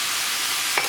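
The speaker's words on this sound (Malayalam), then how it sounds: "ഓയിൽ നന്നായിട്ട് ചൂടായിട്ടുണ്ട്. ഇതിലേക്ക് സ്ലൈസ് ചെയ്ത് വെച്ചേക്കുന്ന സവോള ചേർക്കാം." Sliced onion and crushed garlic hitting hot oil in a pan for Kerala egg roast, a dense, even hiss of frying that lasts about a second, with a faint clink near the end.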